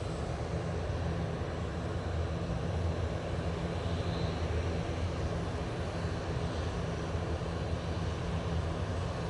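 Aircraft at Manchester Airport, a steady loud engine roar and rumble filling the whole stretch, broad and constant with wind noise on the microphone.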